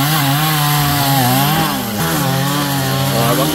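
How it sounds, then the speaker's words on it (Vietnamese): A chainsaw makes the opening cut into the trunk of a golden wattle tree. The engine runs loud and close throughout, its pitch dipping briefly as the chain bogs down in the wood and then recovering. "cưa một đường vô"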